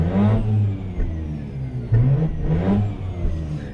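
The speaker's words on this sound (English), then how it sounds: "let's try to rev it some." A Mazda RX-8 rotary engine, warmed up, revs in repeated bursts, rising and falling in pitch, loud and close with a steady rumble between the blips.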